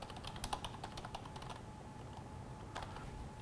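Quiet typing of a short command on a computer keyboard, a run of light key clicks clustered early, then a brief pause and a few more taps, close and alone.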